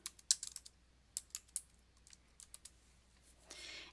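Typing on a computer keyboard, close and fairly quiet, a quick irregular burst of key clicks that thins to scattered taps and ends with a brief rustle.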